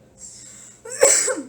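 A single sharp sneeze bursts out after a brief breathy intake, close and fairly loud, during a tabletop game session.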